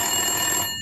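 A telephone rings in a French radio comedy sketch: one brief, steady electronic ring tone that cuts off at the end, with no talk over it.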